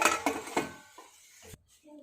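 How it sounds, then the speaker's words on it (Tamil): A lid is set over a pot of marinated chicken for biryani, giving a few sharp metallic clinks and clatters close by at the start, followed by quieter handling sounds. "அப்படியே மூடி வச்சிடலாம்"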